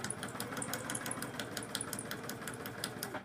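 A sewing machine stitching through paper runs steadily at close range, with a quick, even mechanical chatter of the needle and a light motor hum for the whole stretch.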